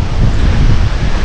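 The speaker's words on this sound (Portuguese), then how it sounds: "Não sei como é que vai ser a audição com o vento" Strong wind blows outdoors across an abandoned ranch in the open Campanha countryside of southern Brazil, buffeting the microphone with a loud, continuous low roar that barely lets up.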